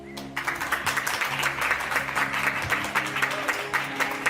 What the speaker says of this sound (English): Let's get one last round of applause here for all the players at the final table.